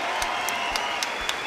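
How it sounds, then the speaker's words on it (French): A crowd at a Lions FC 11 MMA event keeps up steady applause for two fighters, a dense clapping wash with a few sharper claps popping out over the crowd noise. "Faites un tonnerre d'applaudissements pour les deux combattants s'il vous plaît."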